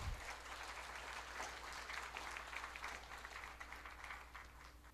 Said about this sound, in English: Let us give us a round of applause and welcome our Honorable Minister.